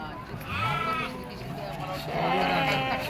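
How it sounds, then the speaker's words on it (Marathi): Goats bleat twice at the Atpadi goat and sheep market, loud and close, with the calls coming one after the other. "बघा शेळ्या पुऱ्या मापा शेळ्या"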